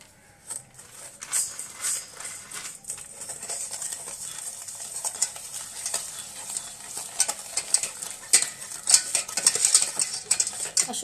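Two eggs and sugar being whisked lightly in a bowl for caramel custard pudding, a steady rapid clinking and scraping of utensil against the bowl, close and moderately loud, with no talking.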